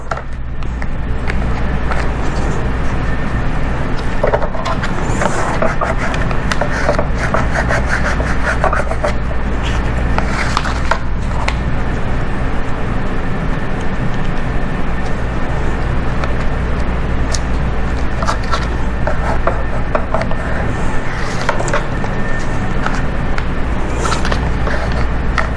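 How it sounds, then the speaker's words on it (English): A squeegee is pressed hard across a craft transfer to push out liquid, giving a continuous rubbing, scraping sound with repeated strokes, close and steady with no talking. "I'm pushing nice and hard on this to squeegee out all the liquid"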